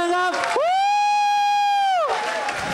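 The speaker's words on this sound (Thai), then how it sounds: "ขอเสียงปรบมือพร้อมๆกันอีกครั้งหนึ่งครับ" Crowd at a Muay Thai fight cheering and clapping loudly, with a long sustained tonal cry or whistle riding over the din in the middle before the cheering swells again.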